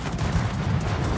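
Heavy shell impacts and booming gunfire batter a warship in World of Warships, a dense rumbling barrage with repeated low thuds running continuously and loud throughout.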